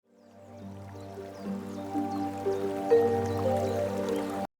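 Cartoon sound effect of water poured for an ox to drink, a bubbly, dripping trickle that swells over a sustained musical tone and stops abruptly.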